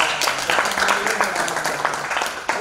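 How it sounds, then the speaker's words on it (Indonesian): Applause from a student audience at an OSIS upgrading public-speaking session, a dense steady patter of clapping lasting the whole moment, with some voices mixed in. "tepuk tangan dulu dong"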